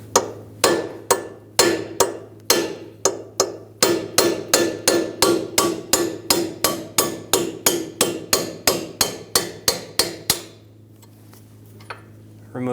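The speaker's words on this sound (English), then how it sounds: "Using a hammer and a punch, we're going to remove the bolt." A hammer drives a punch to knock a bolt out of a Ford Focus front steering knuckle, giving about two dozen sharp metallic strikes at a steady, close rhythm before stopping abruptly.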